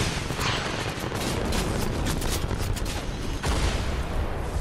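Explosive rocket launcher blasts and heavy gunfire from a Fortnite match rumble continuously, loud and dense with repeated booms layered through the whole stretch and no one talking.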